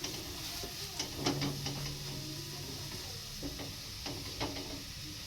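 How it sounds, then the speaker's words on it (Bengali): Chopped garlic frying in the oil just used for frying onions, a faint steady sizzle with scattered light clicks and stirring taps throughout, close and without talk. "যেই তেলে আমি পেঁয়াজ ভেজেছি সেই তেলেই আমি রসুন কুচি দিয়ে দিচ্ছি।"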